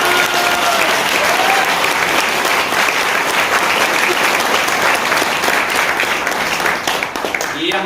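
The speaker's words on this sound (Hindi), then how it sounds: "इसलिए आप लोगों के लिए भी एक जोरदार तालियां हो" An audience at an Ebiotorium gathering breaks into loud, sustained applause, a dense wash of many hands clapping close by for several seconds that starts to thin out toward the end.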